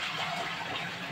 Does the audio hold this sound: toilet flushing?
yes